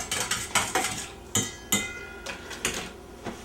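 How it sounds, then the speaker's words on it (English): A mustard mixture is whisked together in a bowl, producing a steady series of quick metallic clinks and scrapes of the whisk against the bowl, close and fairly loud with no talking. "Now just whisk that all together"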